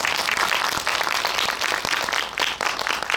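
A cinema audience claps enthusiastically at a film talk event, loud dense applause filling the room throughout with individual sharp claps standing out.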